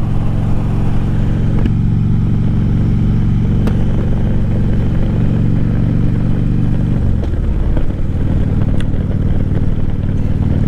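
A Harley-Davidson Street motorcycle riding along a road on an evening ride, its engine droning steadily and loudly under wind rush, shifting pitch once partway through, with no talking.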